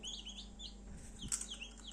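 Faint high cheeping from newly hatched chicks inside an incubator over its steady low hum, with a soft clunk partway through.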